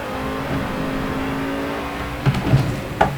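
Engine of a car in a racing video game drones steadily, then revs in short bursts near the end alongside brief tire noise, loud and close with no speech.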